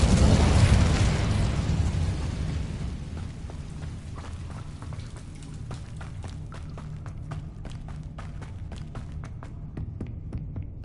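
A fire spell cast in Hogwarts Legacy: a loud, broad whooshing burst of flame at the start that settles into a steady roaring, crackling burn with rapid small pops over the rest.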